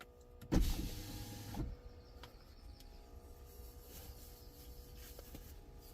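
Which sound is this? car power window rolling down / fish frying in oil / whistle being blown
car power window rolling down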